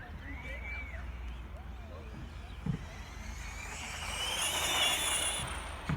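A gyro-stabilized Tamiya Neo Fighter RC buggy on a 3S battery runs at full throttle, its faint electric whine rising and sweeping past over a low rumble of background noise.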